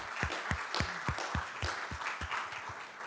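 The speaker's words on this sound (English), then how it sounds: "A very special thanks and an applause for Bastian Wibranek, who was organizing the entire symposium." Audience at an architecture symposium applauds steadily, individual claps ringing out in a dense, even roll that stays loud throughout.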